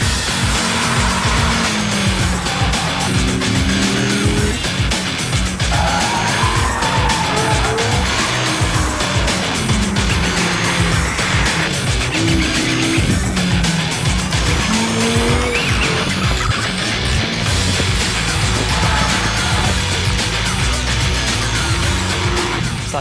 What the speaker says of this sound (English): Now it's time for the Lambo's cousin, the Audi R8 V10.